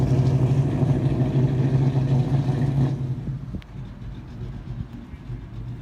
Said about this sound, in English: And Al Beecham is just now picking up his car.